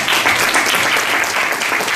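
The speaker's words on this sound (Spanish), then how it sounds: "Un aplauso, un aplauso." Brief burst of audience applause at a talk on nocturnal birds of prey, dense and fairly loud clapping lasting a couple of seconds.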